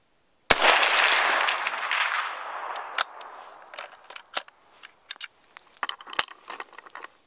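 A rifle fitted with an iRay Geni GL 35R thermal scope fires a single loud, sharp shot outdoors that fades into a long rumbling tail, followed by scattered small clicks and taps.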